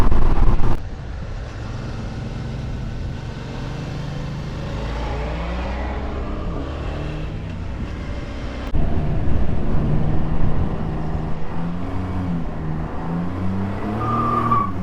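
A Can-Am Ryker three-wheeler drifts out of a roundabout, its engine droning and climbing in pitch through the turn, swelling louder midway, with a brief thin tire squeal near the end.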